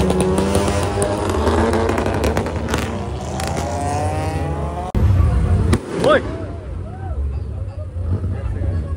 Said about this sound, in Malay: Tiba-tiba ada bunga api.